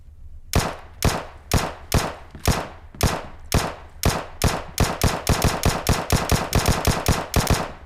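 Single-fire Vector shots in PUBG Mobile, loud and close, starting as evenly spaced single shots about half a second apart and then speeding up into a quick, steady string of rapid shots.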